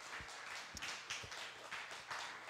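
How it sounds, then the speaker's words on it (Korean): Faint, distant applause from a church congregation at a Pentecost service in Seoul, a soft, scattered patter of claps with a few louder individual hits, heard quietly for a couple of seconds. "오늘은 박수도 하나님께 영광의 박수 한번 쳐드립니다"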